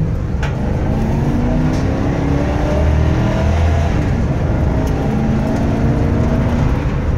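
A 2006 Ford E-250 3/4-ton work van accelerating through the gears, heard from inside as a loud, steady engine drone with rising and falling pitch as it shifts smoothly.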